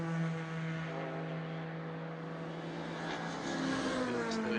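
Race cars, Estonian BMWs among them, running close together during the Nankang 2h Endurance round at the DeWALT Grand Prix, with a steady engine drone whose pitch rises toward the end, heard from a distance.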